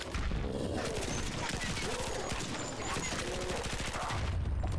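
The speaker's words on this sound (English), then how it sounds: "Might as well use the SMG, seeing as it's not being good to me" Rapid, steady SMG fire from the video game Dying Light, a continuous stream of quick shots lasting several seconds at fairly low level.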